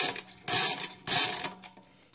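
A fully mechanical calculator running an addition, giving two loud bursts of clattering, ratcheting gear noise, each about half a second long, with quieter clicks and settling mechanism sounds between and after them.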